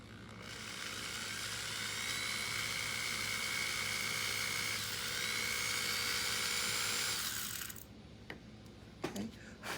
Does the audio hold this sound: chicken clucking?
no